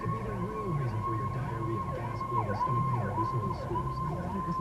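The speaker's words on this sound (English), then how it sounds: "there goes the fire truck." A fire truck siren wails in a repeating rising and falling sweep, moderately distant over low traffic rumble, with no talk.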